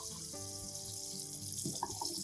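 Tap water runs steadily into a sink while cilantro is rinsed, a soft continuous hiss with light splashing as the leaves move under the stream.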